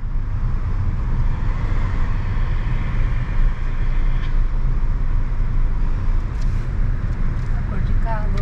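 A Jetta TSI's loud aftermarket exhaust roars through a tunnel, a heavy continuous rumble with passing traffic noise echoing around it.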